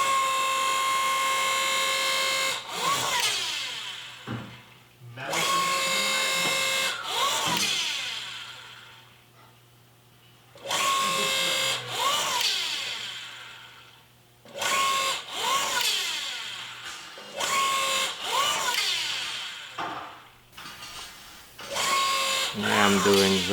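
A DIY tube bender works a tube through a compound bend: repeated bursts of whining, rising-and-falling motor sound, close and fairly loud, separated by short quiet gaps.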